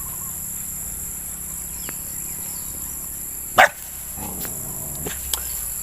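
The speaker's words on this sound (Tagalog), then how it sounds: "itong mga aso na yan oh" A dog barks once in a short burst, followed by a few fainter yaps, over a steady drone of insects chirping in the background.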